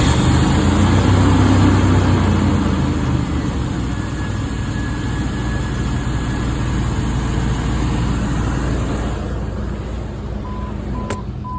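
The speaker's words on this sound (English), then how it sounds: "the truck is idling" A truck engine idles steadily with a constant low rumble, holding an even, moderately loud drone throughout with no talk over it.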